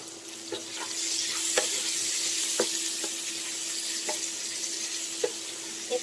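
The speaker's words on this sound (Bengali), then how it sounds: "আলুগুলো হলুদ আর লবণ দিয়ে আমি ভেজে নেব" Potatoes frying in a pan with turmeric and salt, giving a steady hiss of sizzling with occasional soft scrapes and taps from stirring.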